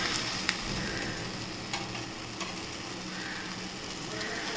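Tandoori chicken sizzles steadily in a pan, with occasional scraping clicks as the pieces are turned, heard up close at a moderate level.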